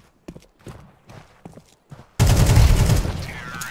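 Gunfire in Counter-Strike 2 starts with a few quick, sharp taps spaced apart, then erupts into a loud, dense burst of shots and reverberant noise, with a voice briefly heard beneath.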